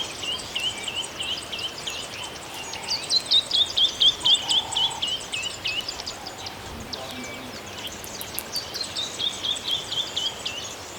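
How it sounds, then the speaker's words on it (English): Violet-backed starlings call from a nest in a dead tree in Kruger National Park. Their bright, repeated chirps and trills run in bursts over a constant buzz of insects, moderately close and with no voices over them. "Violet-back starlings nesting in the dead tree."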